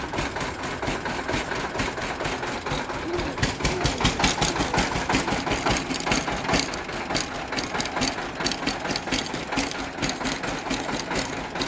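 A sugarcane juice cart's engine runs close by in a steady, rhythmic chug with a mechanical knock, loud and continuous throughout.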